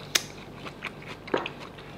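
Someone bites into grilled pork neck with roasted chili jaew dip, giving a few faint, close chewing and biting sounds spread over a couple of seconds with no talk.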